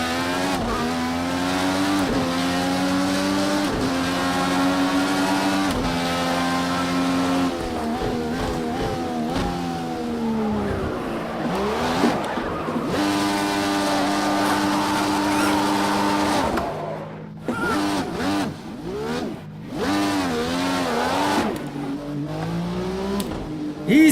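A race car in Project Cars 2 on the Long Beach street circuit roars through rising and falling gear shifts, with tire squeal and skidding in corners, a continuous loud engine drone throughout.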